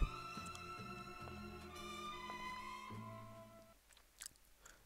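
A video-game cop in a prison-escape game eating chicken wings, with wet chewing and biting sounds over steady tonal game music that fades near the end.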